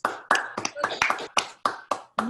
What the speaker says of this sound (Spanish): antes te damos un aplauso